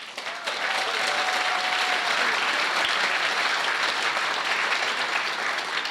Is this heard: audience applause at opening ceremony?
yes